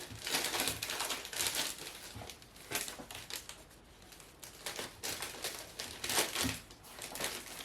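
Plastic bath bomb packaging being folded down, giving repeated loud crinkling and crumpling bursts close up, in uneven waves with brief quieter pauses between folds.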